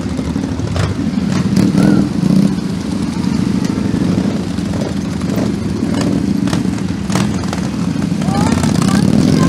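Several dozen bikers ride motorcycles carrying Ukrainian flags through Rivne's city centre, engines droning and revving steadily nearby with brief louder passes and street noise throughout.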